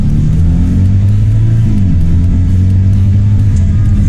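A Mercedes-Benz SLK 55 AMG V8 engine revs and accelerates, a deep, throaty rumble climbing in pitch and holding steady, loud and close throughout.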